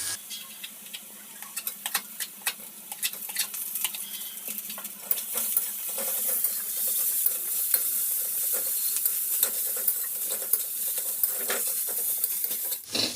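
Ginger-garlic paste sizzling and frying with onions in a pan, a steady close crackle with frequent stirring scrapes and light utensil clicks, growing denser partway through, no talking.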